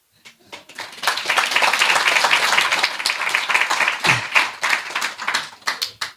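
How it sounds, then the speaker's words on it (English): Audience at a devotional talk claps along, starting with a few scattered claps that swell into sustained clapping before thinning into separate claps at the end. "So can everyone clap?"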